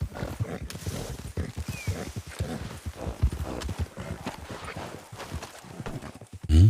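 Steady clip-clop of horse hooves walking at an even pace, close by, with soft rustling around them and a brief louder thump at the end.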